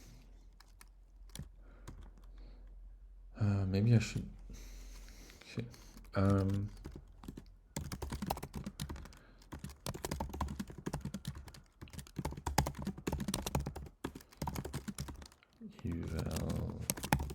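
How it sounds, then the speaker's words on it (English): Computer keyboard typing runs through most of the stretch as dense, rapid clicking at close range, broken by brief pauses, with a person speaking quietly over parts of it. "Okay, that's a lot of typing."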